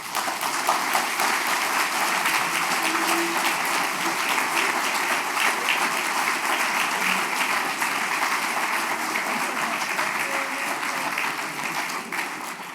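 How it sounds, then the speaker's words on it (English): An audience at a prayer breakfast applauds its speakers, a dense, even roar of many hands clapping that holds steady for several seconds at close range. "let's have a round of applause for all of our speakers today"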